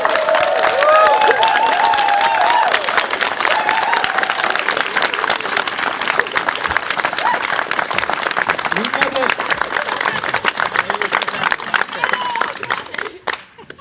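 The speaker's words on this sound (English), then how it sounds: "Let's give all of these people a round of applause." A large crowd at the Ingress Camp Navarro closing gathering applauds and cheers, with loud sustained clapping, whoops and shouted voices near the start, then steady applause that fades out at the very end.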